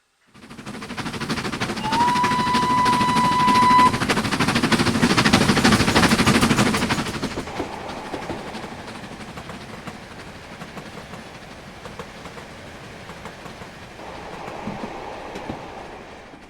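Steam locomotive 5700 in Train Simulator on the Riviera Line (Exeter to Kingswear): a loud rumbling run with a steady whistle near the start, then quieter rolling clatter, with no talk.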